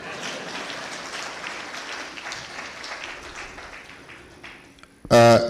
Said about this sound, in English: Can you clap for me?